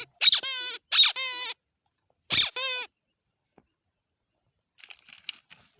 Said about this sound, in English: Parrot is making sound.